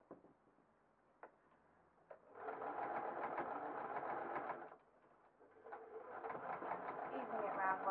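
A sewing machine stitches a shoulder seam on a patterned stretch jersey cotton dress in two steady runs with a short pause between, quiet and close, with faint ticks before it starts.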